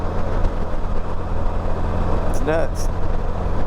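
A 2012 Can-Am Spyder RT-S three-wheeler with a Rotax 990 engine runs at high revs on the highway, a loud steady engine drone mixed with wind roar, while a rider speaks briefly over it.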